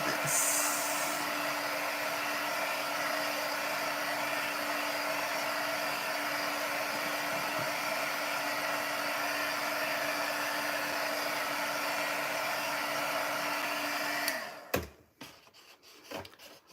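A heat tool blows steadily and loudly at close range over a mixed media art piece for about fourteen seconds, with a constant whirring hum, then switches off and leaves a few quiet knocks.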